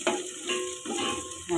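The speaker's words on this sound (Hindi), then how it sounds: "ये देखिए इसको थोड़ा सा फ्राई कर लिया" Garlic and ginger frying in oil in a cooking pot, a steady close sizzle with brief stirring scrapes, for a dish of black chickpea pulao.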